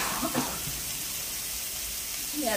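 Broccoli hits a hot stir-fry pan with toasted sesame, giving a steady broad sizzle that swells briefly at the start and end, with no talking over it.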